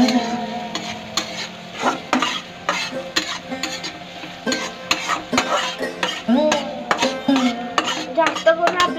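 Onion stirred and roasted in a pan for poha, a spoon scraping and clattering in rapid, steady strokes against the metal over a soft background sizzle, close and fairly loud throughout.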